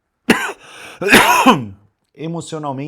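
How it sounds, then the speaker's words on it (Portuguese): Two harsh, raspy coughs, close and loud, separated by a brief pause, followed by a person starting to talk. "Desculpa, tô com uma tosse esse tempo seco do caramba."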